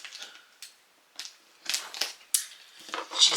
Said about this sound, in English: Just picture me I cut the tape off of the box.